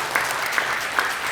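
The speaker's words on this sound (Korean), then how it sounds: "우리 힘껏 한번 박수를 격려드리겠습니다." A church congregation claps together at a Christmas service, dense and steady applause filling the room for a short burst.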